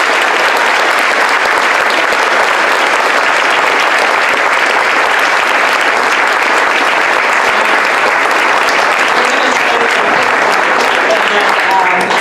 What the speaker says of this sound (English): Let's have one last round of applause for all of our candidates.